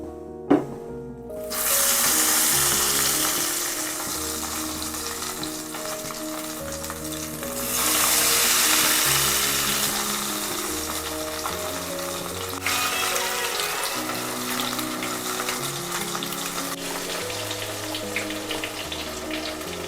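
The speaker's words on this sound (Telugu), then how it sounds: "ఈ ఫిష్ ముక్కలు వేసాను కదండి ఇవి మనం సిమ్లో పెట్టుకునే వేసుకోవాలి" Fish pakoda pieces deep frying in hot oil, a loud steady sizzle that swells in bursts as pieces go in, with background music and no talk.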